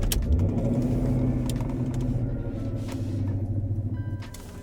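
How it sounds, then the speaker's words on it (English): A car engine cranks and catches, settling into a steady low rumble with some revving, close by. "And then we'll start the car."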